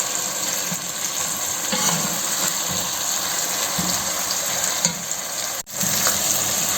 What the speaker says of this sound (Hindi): प्याज अभी ब्राउन हो रहा है